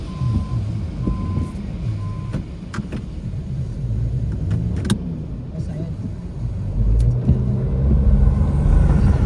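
Heavy road traffic rumbles past close by on a street in Eureka, California, with a logging truck and a seafood truck among the vehicles, building louder toward the end, and a voice speaks intermittently over the engine noise.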